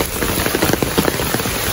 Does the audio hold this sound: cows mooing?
no